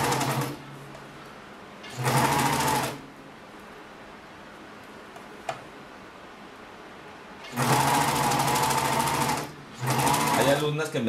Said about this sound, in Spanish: Iniciamos a coser. Igual borde con borde y vamos cosiendo.